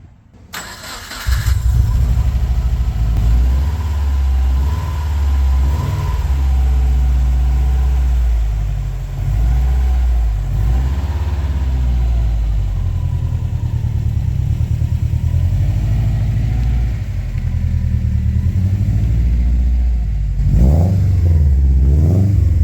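A 2008 Subaru Forester XT with a rebuilt engine and five-speed manual cranks and starts, then settles into a loud, steady idle with small revs rising and falling before a final blip, close and alone.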